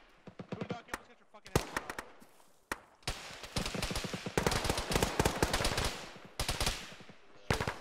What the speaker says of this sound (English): Taking flanking fire from the fucking BRDM.